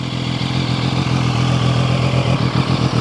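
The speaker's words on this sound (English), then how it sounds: "We'll let that tick over for a second and then I'll give it a rev." Zontes 703RR three-cylinder sports motorcycle idling: a loud, close, steady low-pitched engine rumble with fine rapid pulsing, holding an even tick-over throughout with no talk.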